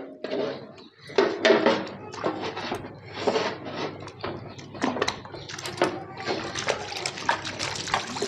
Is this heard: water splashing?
yes